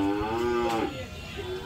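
Cattle moo loudly and close at a calf and cow market, one long drawn-out low call that fades after about a second, with crowd murmur behind it.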